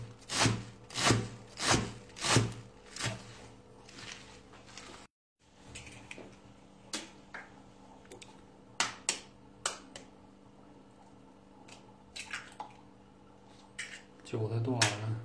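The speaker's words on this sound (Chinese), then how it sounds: "韭菜剁完了" Fresh garlic chives are chopped with a knife on a wooden board in a rural kitchen: a quick run of about half a dozen sharp, close chops, then a pause and scattered lighter strikes.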